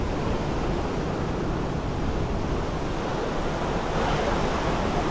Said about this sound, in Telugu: వ్యూ పాయింట్ వేవ్స్ భలే వస్తున్నాయి